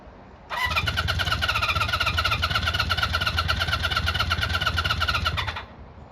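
A classic Honda CB400 Four motorcycle engine, fuel and choke on, cranks and catches into a steady, loud, fast-pulsing run for about five seconds before cutting out, heard close with no talking.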